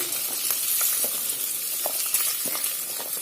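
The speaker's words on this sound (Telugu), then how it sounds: "స్టార్ పువ్వు అండి ఇలాచి ఇవన్నీ వేసి వేపుతున్నాను" Star anise and cardamom fry in hot oil for a Mughlai biryani, a close, continuous sizzle with small crackles and brief scraping stirs.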